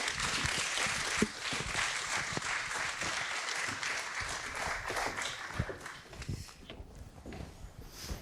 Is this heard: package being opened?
no